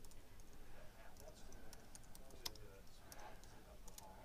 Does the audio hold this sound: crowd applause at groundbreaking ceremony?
no